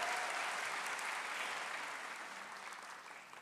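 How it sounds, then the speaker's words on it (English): Sustained applause from a graduation ceremony crowd, dense steady clapping close and full that slowly eases off over a few seconds, with no talk over it. "And we're going to do lots of clapping,"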